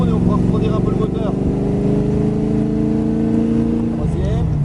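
An AC Cobra Shelby engine pulls steadily in second gear on a track, a loud, continuous low-pitched drone with a brief dip near the end, while a voice talks over it.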